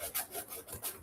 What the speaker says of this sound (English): that's when you're going to want to come in with your precision sanding stick, and you can get these edges